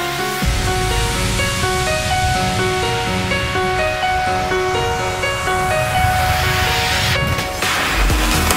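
Mountain bikes ride through deep water during a marathon race, a loud, steady roar of splashing and rushing water that runs unbroken from start to finish, with tonal music-like bands layered over it and no talk.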